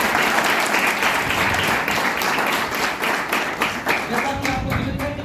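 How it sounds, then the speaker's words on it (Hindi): An audience at a theatre workshop bursts into sustained applause to welcome the organisers, dense clapping throughout that thins into a few separate claps near the end. "सभी का एक बार जोरदार तालियों से स्वागत करता हूं"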